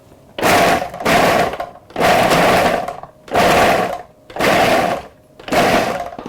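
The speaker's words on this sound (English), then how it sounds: "We're going to very quickly pulse chop this so that it's sort of quite coarse." Food processor pulse-chopping tomatoes and chillies for sweet chilli jam, loud, close bursts of motor whir and chopping, six roughly even pulses about a second long with short gaps between them.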